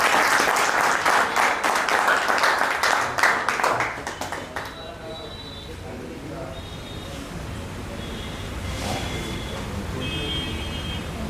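An audience at a poetry open mic at a cafe claps in a dense, lively burst of applause for about four seconds, then the clapping dies out into quiet room murmur.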